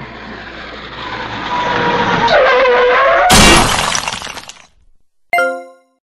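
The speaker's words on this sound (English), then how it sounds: "a man has just crashed his car into the store, causing severe damages" A car smashes into a Walmart store: engine roar and tyre skidding build up, then a loud burst of breaking glass and crunching impact, followed by a short sharp clatter of falling debris.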